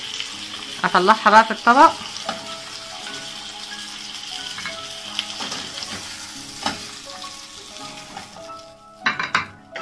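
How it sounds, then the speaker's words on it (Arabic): Chicken breasts sear in butter with salt, pepper and a pinch of cardamom in a home kitchen, giving a steady sizzle broken by loud utensil clatter early on and again near the end, with brief talk over it. "انا خلاص شوحت اهو صدور الفراخ بالزبدة والملح والفلفل"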